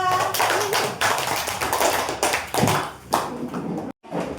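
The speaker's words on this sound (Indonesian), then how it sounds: "Tepuk tangan untuk kelompok 2." A classroom full of people clapping together, dense and steady for several seconds before stopping abruptly, then a few scattered claps resume.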